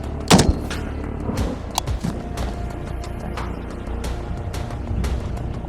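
A single sharp rifle shot of a 7.62x39 FMJ TelaAmmo round into ballistic gel cracks near the start, followed by scattered clanks and thumps over a faint background.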